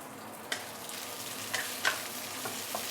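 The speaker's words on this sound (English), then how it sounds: "Now you want to saute this for a minute or two." Dried chili and spring onion sauté in a wok, giving a soft steady sizzle with a few sharp spatula clinks and scrapes spread across the clip.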